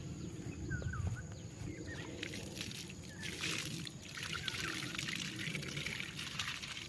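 Water is poured onto the soil around a newly planted durian tree in an orchard, a steady splashing and trickling stream with some sloshing, continuous for several seconds, with faint birdsong outdoors.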